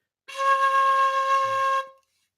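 A single sustained high fife note sounds clear and close for about a second and a half, then stops abruptly, with nothing else in the background.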